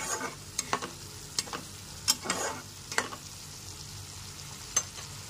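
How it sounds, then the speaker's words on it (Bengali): Spice paste sautéed in a pan over a low-to-medium gas flame: a soft steady sizzle under sharp intermittent scrapes of a spatula stirring at an uneven pace, close and moderately quiet, with no talk. "গ্যাসের ফ্লেমটা লো টু মিডিয়ামে রেখে সমস্ত মশলাটাকে খুব ভালো করে কষিয়ে নিতে হবে।"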